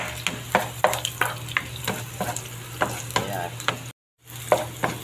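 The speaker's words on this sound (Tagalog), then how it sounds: "Kailangan lang natin halo-haloin para magpantay yung kanyang pagkakaluto. Hindi masunog." Onion and garlic sautéing in a pan for ginisang munggo, with steady sizzling under repeated scraping strokes of a spoon stirring, close up, briefly cutting out to silence near the end.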